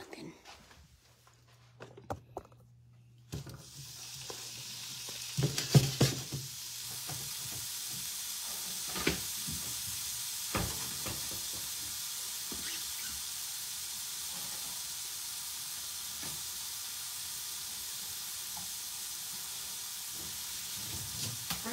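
Fresh organic eggs from home-raised hens hit a hot pan and break into a steady, bright sizzle that holds for many seconds, with a person talking over it.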